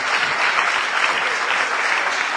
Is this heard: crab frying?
no